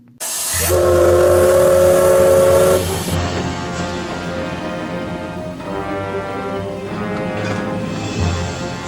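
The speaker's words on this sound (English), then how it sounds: "he heard a whistle from inside the tunnel" A loud, sustained steam train whistle shrieks for a couple of seconds inside a tunnel, then fades into the hissing, rhythmic chuff of the train rumbling through the enclosed space.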